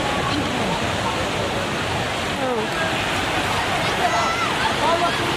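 Water fountains at a water park splash and hiss in a constant, dense wash of spray that fills the whole stretch, with faint voices mixed into the roar.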